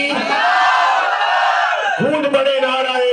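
A large crowd at an annual Urs religious gathering in Wasanpura, Lahore, roaring back in unison to a religious slogan, a loud sustained chant that swells, dips and rises again in a second wave.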